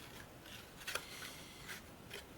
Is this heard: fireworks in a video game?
no